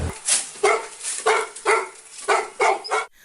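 Rescue dogs in training bark repeatedly at a search site, a series of loud, sharp close barks spaced in a steady rhythm with brief whimpers between.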